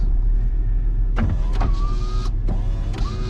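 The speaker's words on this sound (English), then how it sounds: "My windows are working." Power windows of a rebuilt Honda CR-V whir up and down in a few short motorized runs, close and clear over a low idling rumble.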